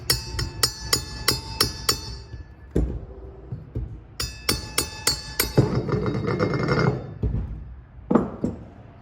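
A hammer strikes a power steering pump pulley from a Toyota 22R in quick bursts of ringing blows, several rapid hits, a pause, then another run of clanking strikes close by.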